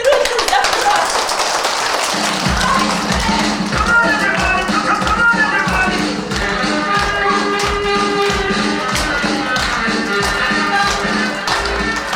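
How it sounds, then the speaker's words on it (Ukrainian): Lively applause from an audience at a children's theatrical performance in a school, with steady rhythmic clapping and taps over music-like tonal background for the whole stretch, loud and sustained. "От ми зараз підбухли бурхливі оплески його дружно"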